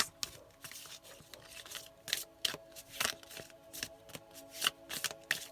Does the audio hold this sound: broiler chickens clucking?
no